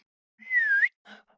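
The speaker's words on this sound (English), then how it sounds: "as he heard the whistle again, he looked up into the branches of a big oak tree" One short, clear rising-and-falling whistle, fairly quiet and isolated, followed by a faint brief trailing note, part of a narrated children's story with Winnie the Pooh.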